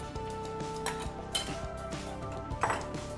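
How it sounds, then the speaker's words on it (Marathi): Half a kilo of paneer is stirred into cooked masala in a pan, with repeated light clinks and scrapes of a spoon against the metal at an uneven rhythm over a low kitchen background. "मसाला आपला शिजला तर त्यामध्ये आपण अर्धा किलो पनीर घालून मिक्स करू"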